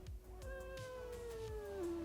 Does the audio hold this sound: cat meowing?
yes